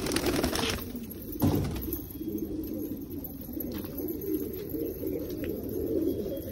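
A pigeon coos steadily at close range, soft and continuous, with a brief louder rustle near the start.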